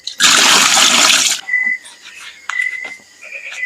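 Water runs loudly from a tap over raw chicken feet for about a second, then gives way to quieter splashes and dripping as they are rinsed again in a home kitchen.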